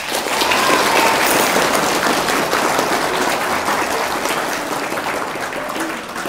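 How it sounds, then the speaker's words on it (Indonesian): Steady, dense applause from a large audience at an Islamic talk on pesantren in Indonesia, loud and continuous for the whole stretch, easing slightly toward the end with no speech over it. "Tepuk tangan."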